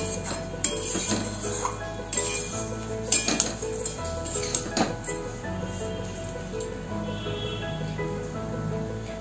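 Flattened rice (chire) being stirred and dry-fried in a pan, with repeated clinks and scrapes of a spoon against metal over a dry rustling of the flakes, steady and close.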